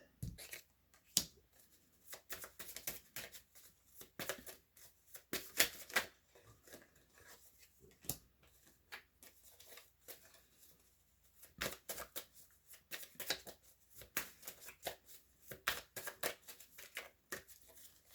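Tarot cards being shuffled close by, a long run of quiet crisp riffles and flicks in uneven bursts with brief pauses.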